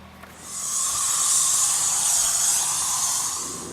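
Spray primer hisses steadily from an aerosol can onto a wooden garden pallet, a close, continuous rush that swells in after a brief start and holds for a few seconds.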